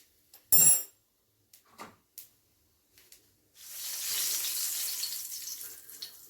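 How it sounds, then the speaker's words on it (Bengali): Black cumin seeds hit hot oil for tempering and burst into a loud, bright sizzle that holds steady and close, after a few sharp clinks and taps of utensils beforehand. "তো ফোড়নের জন্য দিয়ে দিচ্ছি কালো জিরে"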